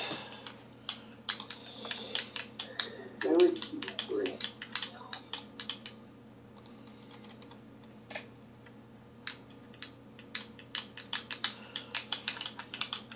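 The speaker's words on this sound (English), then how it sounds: "Whoever's typing it, please stop." Someone types on a computer keyboard during a game show, the quiet clicks coming in quick irregular bursts with short pauses between them.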